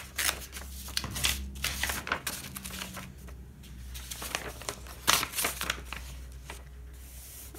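Scrap paper is handled and tucked behind the pages of an art journal during gel-print collage work, with close crinkling, rustling and soft tearing in irregular bursts and no talk.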